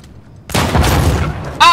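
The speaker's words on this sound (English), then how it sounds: "Ah, we just did the explosion just for the fun of it." A sudden loud boom from an in-game explosion in Uncharted: The Lost Legacy, with a rumbling blast that lingers for about a second before a voice cuts in.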